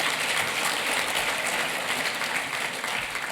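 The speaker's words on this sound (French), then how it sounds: "Je vous demande de les applaudir" An audience applauds parliamentarians at a COP21 climate event hall, a dense, continuous roar of many hands clapping, steady and moderately loud throughout.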